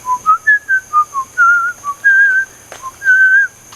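A person whistles the melody of Dixie in a clear, close tune of short rising and falling notes, with a few pauses between phrases and nothing else in the background.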